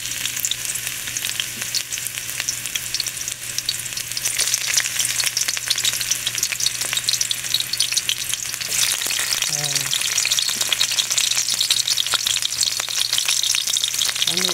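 Garlic and onion fry in a pan for tuna spaghetti, giving a continuous crackling sizzle that grows louder after a few seconds, with occasional stirring scrapes and a faint low hum beneath.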